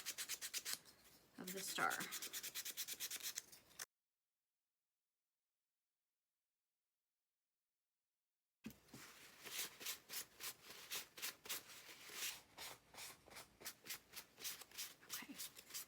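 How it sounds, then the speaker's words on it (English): Sandpaper rubs around the edges of a small wooden craft star in repeated short, rhythmic strokes, close and fairly soft, with a silent pause partway through before the scratchy rasping resumes. "I'm going to sand my little star a little bit too. I want to just go around each edge"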